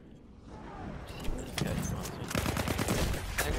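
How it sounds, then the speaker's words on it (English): A cannon fires in Battlefield 1, booming blasts and rapid gunfire building into a dense, loud barrage of battle noise over a few seconds. "Love that cannon."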